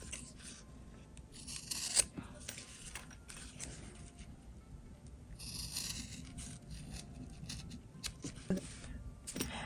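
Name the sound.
scissors cutting fabric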